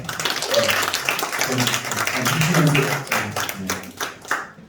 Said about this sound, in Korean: 오늘 말씀 전해주신 우리 목사님께 한번 우리 뜨거운 박수를 한번